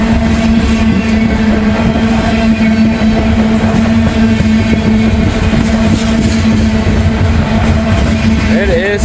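A freight train with two distributed-power locomotives on the rear rumbles past close by, a loud continuous roar with a steady tonal drone and a voice speaking over it on a chilly day.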